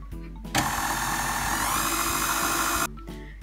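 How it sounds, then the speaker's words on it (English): Electric mixer whirring steadily at medium-high speed through vegan chocolate cake batter, a loud continuous motor drone that starts abruptly and cuts off near the end, with no talking. "you're now gonna mix on medium-high speed for a good 2 to 3 minutes"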